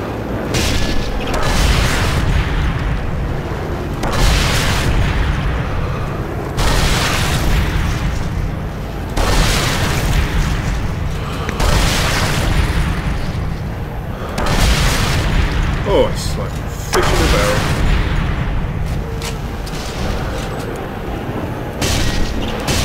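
Grenade explosions in Sniper Elite 3 at an airfield, a series of heavy booms repeating roughly every few seconds, loud and steady throughout.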